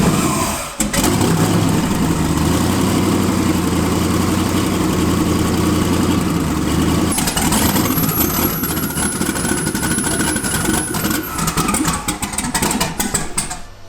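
A twin-turbo LSX V8 in a Mustang cranks and catches, then settles into a loud, steady, rumbling idle close by, with a faint whine rising over the last few seconds.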